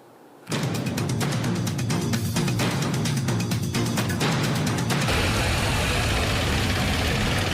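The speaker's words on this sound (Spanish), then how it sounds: "Los uniformados de la Policía Nacional llegaron en motocicletas" Police motorcycles arriving at a market in Quito, a sudden close engine roar that rises and holds as a continuous, busy motor drone, with rapid ticking pulses early on.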